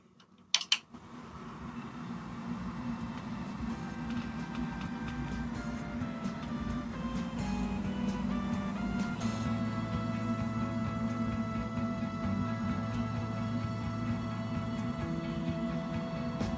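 A compact home server with an Intel Arc GPU powers on with a sharp click, then fans spin up into a steady whirring hum with faint tonal whines that shift in pitch, continuous and close.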